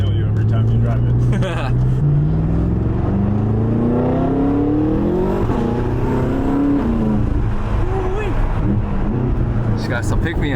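A BMW F10 M5 engine revs and pulls hard inside the car. The exhaust drone rises and falls through gear changes, loud and close, with people talking over it.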